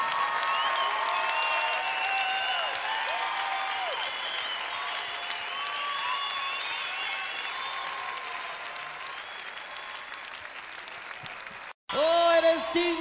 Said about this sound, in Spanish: dale al Señor un aplauso como Él merece